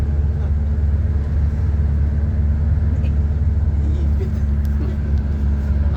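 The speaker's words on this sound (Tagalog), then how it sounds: "Ang haba ng traffic kanina pa to." Steady road traffic on the NLEX expressway near Balintawak and Bulacan, a continuous low rumble of cars and buses in slow congestion, with a voice talking over it.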